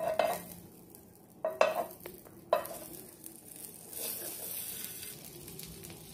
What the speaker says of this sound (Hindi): बटर हमारा मेल्ट हो चुका है